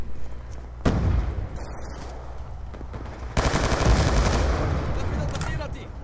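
Select-fire weapon in Call of Duty Black Ops 2 multiplayer, firing loud rapid bursts of gunshots with one sharp early shot and a dense sustained stretch of fire in the second half.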